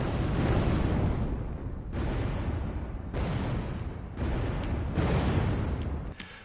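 Explosion sound effects: a series of four or five loud, heavy booms, each rising suddenly and rumbling away, spaced about a second apart with no talk.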